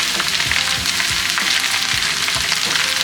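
Sliced onion with cinnamon sautés in a hot pan, a steady, close sizzle broken by a few soft scrapes of stirring, with no voices.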